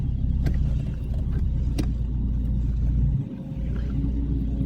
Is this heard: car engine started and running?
yes